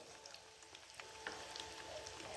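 Cheese-filled balls of leftover rice fry in hot oil in a pan, giving a steady, soft sizzle and crackle with faint pops throughout, close by and fairly quiet, with no voices.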